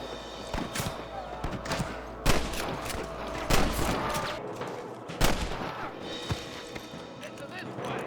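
Gunfire in the video game Red Dead Redemption during a shootout at Pike's Basin: scattered sharp shots crack at irregular intervals over continuous game noise, with voices talking throughout.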